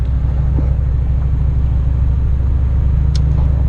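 Turbo Chevrolet Silverado engine lugging at about 1200 RPM with a 4L80 transmission locked up in overdrive, a loud, steady low rumbling drone with a faint pulsing throb and no change in pitch.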